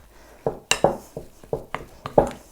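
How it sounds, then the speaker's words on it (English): Gluten-free vegan soda bread dough being mixed with water in a bowl: a handful of sharp, close knocks and clinks of a utensil against the bowl at irregular intervals, with quiet gaps between them and no voices. "Really want to give this a good mix in until everything is thoroughly combined."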